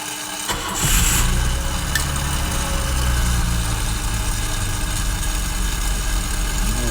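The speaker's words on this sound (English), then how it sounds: "We're gonna try to cold start." A 1973 BMW 3.0CS automatic is cold started, with a brief cranking whir before the engine catches and settles into a steady, loud, close idle with a low rumble.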